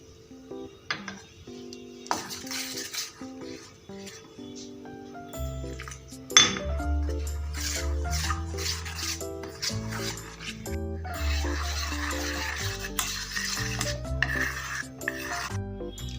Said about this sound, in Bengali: মাঝে মাঝে অল্প অল্প জল দিয়ে একটা ব্যাটার তৈরি করে নেব।